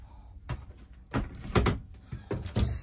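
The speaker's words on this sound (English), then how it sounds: "Let me get this door out the way." An RV storage compartment door, thought to have water damage, being shifted aside: several close knocks, bumps and rattles spread over a few seconds, with a brief high scrape near the end.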